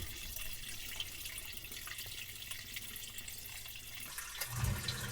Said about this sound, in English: Now I'm going to plug it in and fill it with some water, and we'll make sure it works.